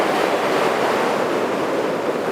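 Ocean waves wash steadily in a broad, unbroken roar of surf, loud and close throughout with no voices.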